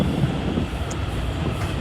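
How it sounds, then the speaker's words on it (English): A New York subway M train at 179th Street in the OpenBVE train simulator game, a loud continuous rumble of rolling rail cars with steady broadband noise and a faint high tone near the end. "Look, there's an M train at 179th Street."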